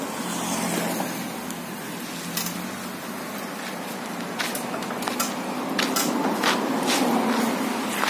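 A mini Jeep car pulling a pedicab and a buggy, its engine running steadily close by with rising and falling revs and scattered clicks and rattles, with no talking.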